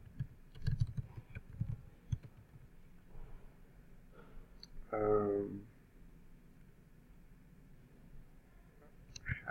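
Computer keyboard typing while writing Python code about text files, soft bursts of keystrokes in short runs, close and quiet, with speech in between.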